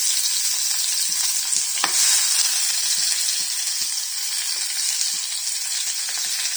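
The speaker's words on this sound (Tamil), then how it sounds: "இப்போ வெங்காயம் கட் பண்ணி வச்ச வெங்காயத்தை போட்டுக்கோங்க." Onions and fennel seeds fry in a pan with a steady, close sizzle and crackle, broken by occasional stirring clicks and taps, with no voices.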